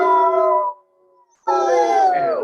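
A human voice imitating a howl in two drawn-out, wavering bursts separated by a short silence, close and fairly loud.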